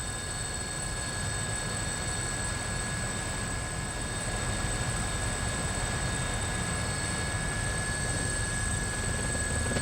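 A police helicopter circles overhead, its rotor and engine drone forming a constant rumbling wash with steady high whining tones, unbroken and without voices.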